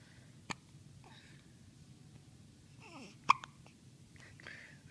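A baby hiccups in a quiet room: a sharp isolated hic early on, then a brief whimpery vocal sound and a second, stronger hiccup, with soft low background noise in between.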